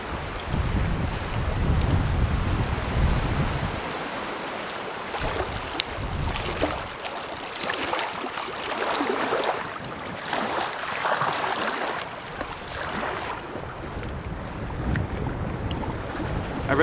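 Strong wind sweeping over a wilderness lake in Woodland Caribou Provincial Park, a steady roaring rush with gusty surges and buffeting on the microphone, loud and continuous with no voices.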